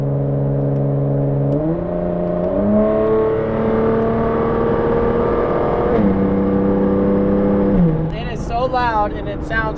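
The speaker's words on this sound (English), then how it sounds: "So now we're driving home with GTR." A Nissan GT-R drives along with a steady droning engine note that climbs through gear shifts, heard from inside the cabin, with some noise near the end.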